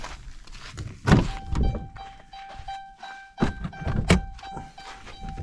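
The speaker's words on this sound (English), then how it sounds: "I'm going to pop the hood" Hood release and latch being worked on a 2008–2022 Dodge Caravan: two solid metallic thunks about three seconds apart, each with a short clattery rattle, close by, plus softer handling knocks and a faint steady hum behind.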